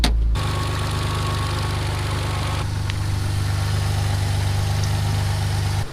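A Mitsubishi 3000GT VR4 engine idles steadily while warming up, giving a constant low rumble close by that starts abruptly and runs without a break, with a brief faint clink partway through.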